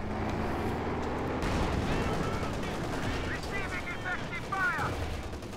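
Tank cannon fire and shell impacts in a Company of Heroes 2 battle, a Sherman tank's shell glancing off a German Panzer IV, with dense rumbling gunfire and explosions throughout and a sharp metallic ricochet-like whine near the end.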